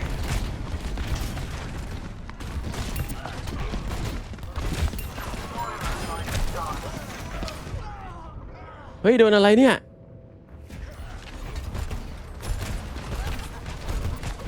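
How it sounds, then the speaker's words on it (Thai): Explosive gun blasts from the Overwatch 2 video game, a dense burst of booming shots and pops mixed with game effects and continuous excited talking, followed by a brief loud tonal effect near the end. "ปืนระเบิดนี่เอง"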